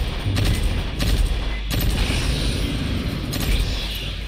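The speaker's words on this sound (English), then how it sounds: "Let's see how the fire turret is. What the? I forgot this is a burst fire." Bursts of turret gunfire in the sci-fi shooter Aliens: Fireteam Elite, with sharp shots around the first, second and third-and-a-half seconds over dense continuous combat rumble, loud and close with no talking.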